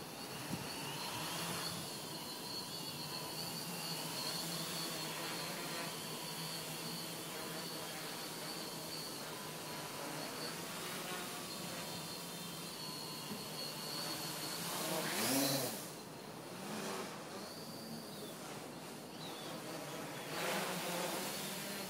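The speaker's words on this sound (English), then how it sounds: "This is a maiden outdoor flight" An Armattan 369 drone, a brand-new roughly 370-size quad on its maiden outdoor flight, buzzes steadily throughout with a high insect-like whine, swelling louder in brief surges as it climbs and passes near.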